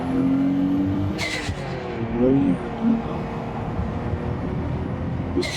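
A Nissan Stagea RS Four V estate's engine drones steadily and rises in pitch as it accelerates to motorway speed, with road noise throughout and a brief voice partly under the engine.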